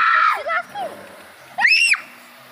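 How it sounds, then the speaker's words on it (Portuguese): Children shriek on a fairground ride in Itajuípe, Bahia, with loud high rising and falling screams in short bursts, a brief lull between them, near and piercing. "A molecada grita demais."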